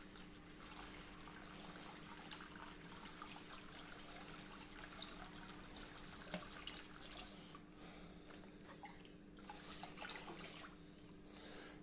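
Soft, steady trickle of water poured into a reef aquarium tank's flow, with light splashing and dribbling, fairly quiet and continuous, over a faint low hum.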